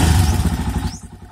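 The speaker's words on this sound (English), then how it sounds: "So, let's start this para makita nyo kung paano tumaas yung RPM gauge." Rato Esquire 250 motorcycle engine starting, heard as a loud, close rumbling burst that drops into a lumpy, pulsing idle.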